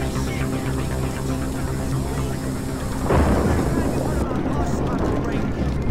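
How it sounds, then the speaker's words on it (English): Steady heavy rain pours down in the video game The Warriors, then a deep rolling rumble of thunder swells in and sustains, loud and close. "It's gonna start raining, thundering."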